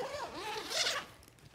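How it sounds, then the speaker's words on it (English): The zipper on a Peak Design camera cube bag is pulled open in one quick, close, rasping run that rises in pitch and then fades out within about a second. "Where are my zips?"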